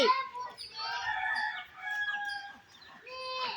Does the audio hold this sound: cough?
no